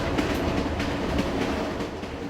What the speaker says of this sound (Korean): 호찌민에서 기차로 꼬박 하루 거리.